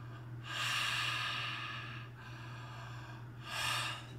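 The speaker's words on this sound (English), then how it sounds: "Number one, mouth open, breathing. Breathe deep." A man taking deep breaths with his mouth open, two long, loud inhales separated by quieter exhaling, close to the microphone over a steady low hum.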